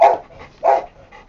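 Dogs at a dog hotel bark in short, sharp bursts, two clear barks close by followed by softer yips, with no talking.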